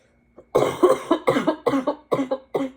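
A rapid series of about eight harsh coughs from a person getting over a bad cold, close and loud, coming in quick bursts with short gaps between them.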